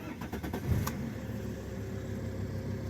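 A 2.4 20-valve JTD diesel car engine with 175 horsepower starts up and settles into a smooth, steady idle close by, with a brief burst of cranking at the start.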